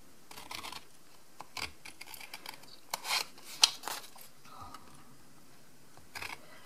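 Scissors snipping through card along a score line, a series of short, crisp cuts in irregular bursts, close and fairly quiet with no talking.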